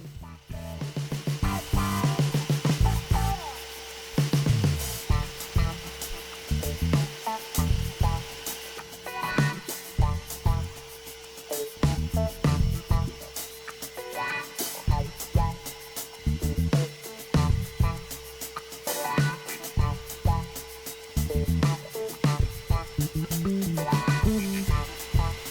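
A milling machine cuts a live-steam locomotive boiler part on a rotary table, a steady tonal whine under repeated rhythmic grinding bursts at moderate distance, alone without talk.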